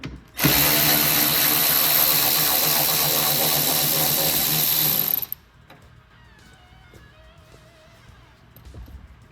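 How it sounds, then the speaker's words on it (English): A power drill spins out a T40 bolt from a 2015-2023 Ford Mustang during a tail lamp install, a loud continuous whine for about five seconds, then stops, leaving faint ticks and handling noises. "the first thing we want to do is remove the"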